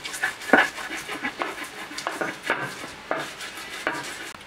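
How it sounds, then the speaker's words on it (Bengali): Pointed gourd ground into a mash for a bhorta, heard as a series of close, rhythmic scraping and grinding strokes with short pauses between them. "পটলগুলো আমার বাটা হয়ে গিয়েছে।"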